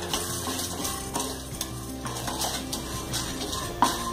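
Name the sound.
roasting chana dal in a pan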